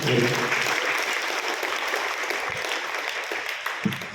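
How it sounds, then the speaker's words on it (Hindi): A classroom breaks into loud applause for a student's correct answer, a steady wash of clapping running throughout, with a voice briefly audible near the start and end. "एक बार जोरदार ताली इस बच्चे के सही आंसर पे।"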